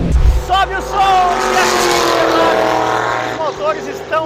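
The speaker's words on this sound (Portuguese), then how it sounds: "Os motores estão roncando alto." Stock Car race car engines roar loudly at a racetrack, a continuous high revving whine with rising and falling pitch as cars pass, while a commentator's voice talks over it.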